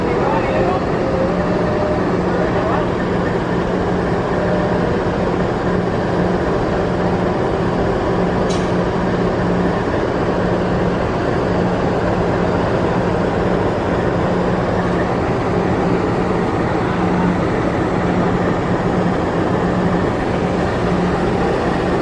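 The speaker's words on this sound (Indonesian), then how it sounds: "Masih standby di sini keretanya." An Indonesian train idles on standby at a station, a steady loud low rumble with a constant hum that continues unchanged for the whole stretch, with a voice talking over it.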